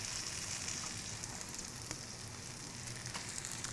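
Sweet potato pancakes fry in a hot pan as they are flipped and pressed down, giving a steady, even sizzle that fills the clip at close range, with no voices over it.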